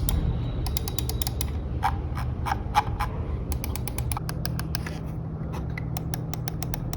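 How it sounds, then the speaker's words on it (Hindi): The mechanical buttons of a Logitech G102 Lightsync gaming mouse are pressed in quick runs of sharp, crisp clicks, close and distinct over a low, steady background hum. "साथ ही मैकेनिकल क्लिक्स है इस माउस में"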